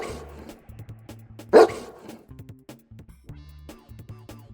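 A dog barks once, loud and close, with a single sharp burst standing out over a steady backdrop of light music.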